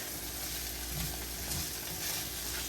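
Onions sautéing in a pan over medium heat for homemade burger steak, a soft, steady sizzle heard close and alone without talk.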